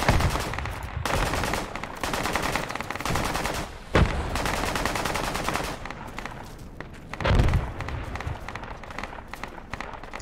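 Rapid bursts of gunfire from the Project Reality tactical shooter game, loud and nearly continuous with machine-gun rattles and single shots, a few sharper louder cracks standing out.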